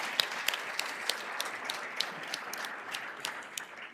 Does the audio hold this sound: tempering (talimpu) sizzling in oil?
no